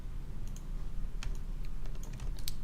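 Computer keyboard keys pressed while working in Modo 3D software, a handful of scattered light clicks over steady room hiss, close by and alone without speech.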